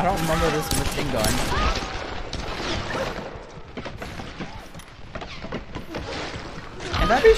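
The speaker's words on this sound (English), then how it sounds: "I don't remember this machine gun." Machine gun fire rattles in a Tomb Raider game, sporadic clattering bursts and cracks under a busy mix of game sounds, with a person talking over it.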